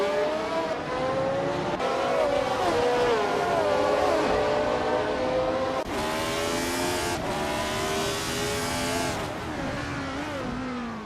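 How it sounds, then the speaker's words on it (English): Race cars including a 1975 McLaren M23 in a racing video game, high-pitched engines revving and shifting continuously, with cars rushing past loudly. "Papa Katsi is in a McLaren M23 from 1975, currently in 8th place after starting 4th"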